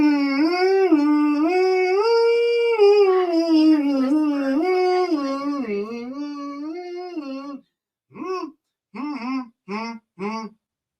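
A dog howls in one long, wavering, drawn-out note of about seven seconds, then gives several short, sharp howling yelps after a brief pause, loud and close.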